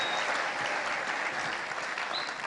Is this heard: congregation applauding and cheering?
yes